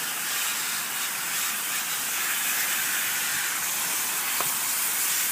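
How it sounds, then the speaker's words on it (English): A garden hose sprays water from the inside out through an AC condenser coil. Close by, a steady broadband hiss holds evenly throughout, with no talking. "take a hose from the inside and spray the coil from the inside out"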